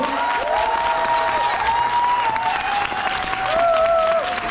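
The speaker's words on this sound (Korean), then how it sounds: "감사의 박수 한번 전해주십시오" Audience at a children's year-end recital applauds the kindergarten director and teachers, steady loud clapping throughout with tonal music or a held note running underneath.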